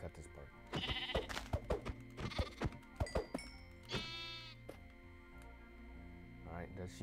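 Sheep bleating in a Minecraft game session, a few short nasal bleats over game sounds and clicking, with a person talking throughout.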